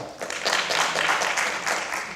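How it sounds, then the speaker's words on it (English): Lecture audience in a room clapping hands in a dense, continuous patter lasting a couple of seconds, fairly close and moderately loud, with no voices over it. "If you've seen it, clap your hands"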